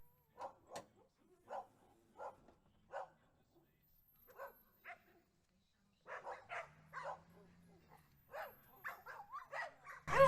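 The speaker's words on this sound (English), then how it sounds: "Sorry about the dogs, guys." Dogs bark and whimper in short, separate bursts with quiet gaps between them. They sound fairly close, and a low hum comes in briefly partway through.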